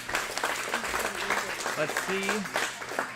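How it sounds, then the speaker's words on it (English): A crowd at a team championship claps and cheers in a dense, continuous wash of applause, with a voice talking over it. "Everyone is cheering."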